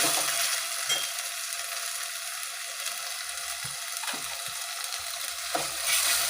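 Onion, coconut, sesame, ginger and garlic paste sautéing in oil gives a steady, moderate sizzle, with a few soft stirring scrapes breaking through the continuous crackle and no talking.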